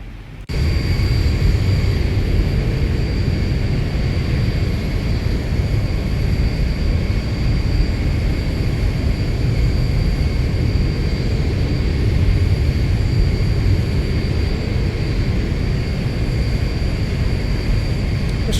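Steady, loud engine roar of a Zibo Boeing 737 airliner on approach into London City in a flight simulator game, a continuous drone with whining tones throughout and no talking.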